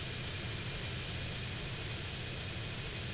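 An airplane flies in GTA San Andreas, giving a steady, even engine drone with a low rumbling hum underneath and no variation or speech throughout.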